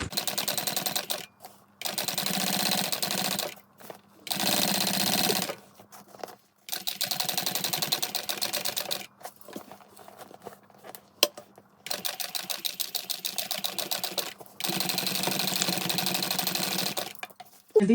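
A sewing machine stitches a bag, running in repeated bursts of rapid mechanical whirring separated by short pauses, close and prominent with no talking.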